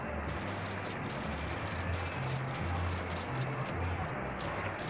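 Rapid, continuous bursts of gunfire in the video game Modern Strike Online crackle steadily over a dense electronic background, with no speech.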